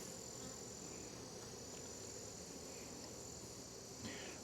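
Honeybees in an opened hive box heavy with burr comb and propolis drone in a faint, continuous steady buzz during an inspection, with no voices.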